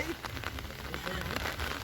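Rain falls steadily outdoors in rural Laos or Thailand, a dense, even patter with a few sharper drops standing out over roughly two seconds, with no talk.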